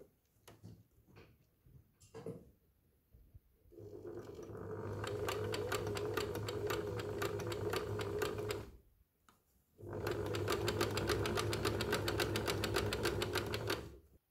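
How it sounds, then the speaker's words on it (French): A sewing machine stitches bias binding along the edge of a dress, whirring in two long, steady runs of rapid needle strokes separated by a short pause, with quiet handling noises at the start and no talking. "Donc je couds tout au bord, sur tout le tour"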